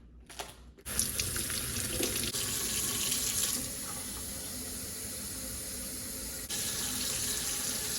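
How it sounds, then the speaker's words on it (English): Running tap water splashes steadily into a sink while fresh produce, including red cabbage, is rinsed, a continuous close hiss and patter that shifts slightly in level partway through, with no talking. "I'll wash the rest of the produce."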